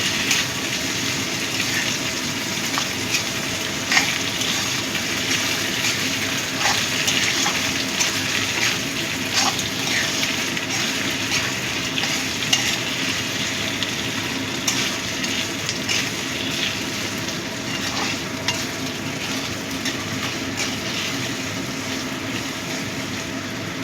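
Ingredients fry and get stirred in a pan while cooking mutton kima with ichor, a steady broad sizzle running continuously with faint scraping taps scattered through it, close and moderately loud.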